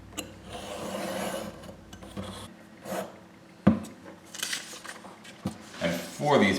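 Inch-thick EVA foam being cut for cosplay pistol barrels, giving repeated rasping, rubbing strokes close by with a few sharper clicks between passes.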